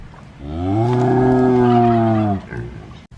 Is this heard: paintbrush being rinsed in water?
no